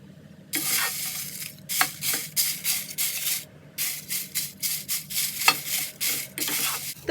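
Rose petals roasting and being stirred in a pan over low heat, with soft sizzling and repeated scraping strokes in an uneven rhythm, close and moderately loud, no talking.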